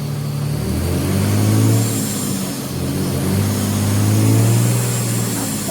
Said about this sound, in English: Yeah, go second gear.